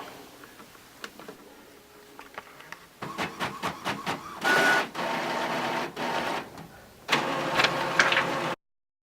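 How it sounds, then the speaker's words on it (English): A printer runs off a paper template for a plexiglass shuriken, starting with light clicks and then building to a series of loud mechanical whirring bursts with short pauses between them, heard close up with no one speaking. "all you have to do is print it out"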